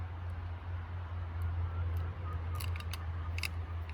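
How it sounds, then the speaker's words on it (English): A cheap dollar-store cutting tool trims the excess flap from a tree graft, giving a few faint, crisp snips and clicks late in the clip over a quiet, steady background hum. "Cut off this excess bit of flap here."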